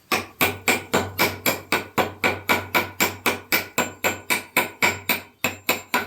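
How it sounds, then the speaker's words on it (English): Steady, forceful hammer blows dressing stone for dry-stack masonry, about three per second, each a sharp ringing crack, continuing without pause and close by. "you're gonna have to find somebody that'll work this hammer like this"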